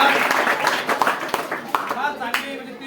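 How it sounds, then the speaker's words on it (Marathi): An audience in a classroom or seminar hall claps for a student, a steady burst of close, lively applause lasting a few seconds. "जगात टाळ्या वाजवा."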